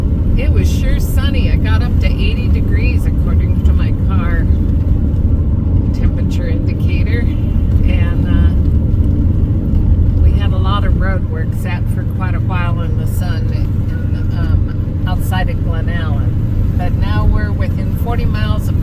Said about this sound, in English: you can hear the windows are down in the back, and the wind is a little bit strong